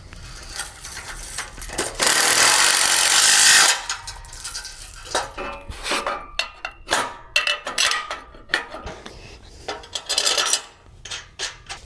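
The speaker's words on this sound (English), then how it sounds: "Grab our 9/16 wrench and deep socket. Tighten it down." A 9/16 wrench and deep socket tightening a nylon nut on a tent trailer frame, heard as a steady ratcheting burst followed by scattered metallic clicks, taps and scrapes up close.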